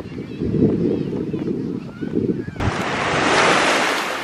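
A person speaks over a low rumble of surf on a beach in Sardinia, then the sound switches to a loud, steady wash of breaking waves with wind.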